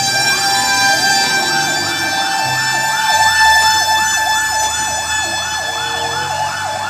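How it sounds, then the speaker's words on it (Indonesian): A loud, continuous wailing siren from a toy fire truck, a fire brigade tanker, with a rapidly repeating up-and-down warble over a steady electronic tone, close and uninterrupted. "Wah, mobil tangki milik pemadam kebakaran."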